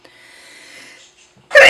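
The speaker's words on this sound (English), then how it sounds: "I'm going to sneeze." A single loud, abrupt sneeze bursts out at the end after a quiet intake of breath, close to the microphone.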